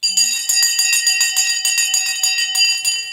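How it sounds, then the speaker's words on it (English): The stock market closing bell rings as a rapid, loud, continuous metallic clanging that runs unbroken for several seconds, with no talk over it. "The bell has now gone."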